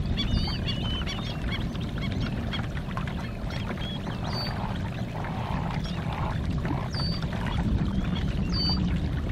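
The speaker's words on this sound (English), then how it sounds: "I think they're called whistling ducks," Whistling ducks give thin, high whistled calls in short scattered bursts out on open water near a Hobie Pro Angler 14 kayak, faint over steady water lapping and wind.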